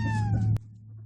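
A cat lets out one loud, drawn-out meow close by, which cuts off abruptly and leaves a low background hum.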